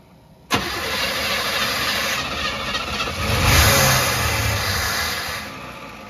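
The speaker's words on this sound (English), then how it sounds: "Fire it up, Troy. Let's see if she runs" A 305 Chevy V8 fitted with a 2-stroke dirtbike carburetor cranks and fires abruptly, then runs on at a steady rough idle with a brief swell of revving, loud and close.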